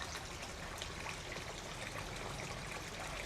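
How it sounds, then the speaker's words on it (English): Water pours steadily into a garden fish pond being topped up for Doitsu Showa koi breeding, a continuous close broadband splashing and trickling rush with no voices. "So I'll just top up my my other pond now."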